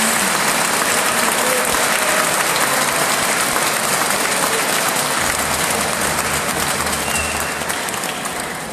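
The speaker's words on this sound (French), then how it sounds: "j'aimerais qu'on applaudisse encore les artistes qui sont ici" An audience applauds the artists on stage, loud sustained clapping filling the whole stretch and tapering slightly at the end, with no voices over it.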